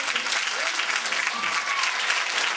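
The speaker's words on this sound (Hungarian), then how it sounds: "Egy nagy tapssal." Sustained applause from a school audience at a 4th-grade carnival, a dense steady clatter of clapping hands filling the whole stretch without pause.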